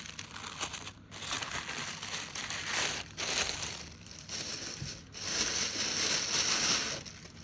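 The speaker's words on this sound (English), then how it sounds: "Crinkling, sorry about that." Plastic packaging crinkles and crumples while new budgeting envelopes are unboxed, close and fairly quiet, with bursts of crackling separated by brief pauses.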